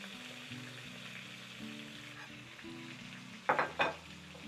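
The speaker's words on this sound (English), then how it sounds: "We're gonna wanna cook the shrimp for about 3 to 4 minutes" Shrimp cooking in a pan, a faint steady sizzle under soft background music, ending in a few sharp clattering bursts.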